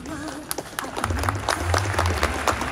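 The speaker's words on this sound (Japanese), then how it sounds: "皆さんからも拍手が起こっております" An audience applauds at the Nagoya Grampus 2023 team presentation, a scattered crowd clapping that swells into steady applause under a faint announcer's voice.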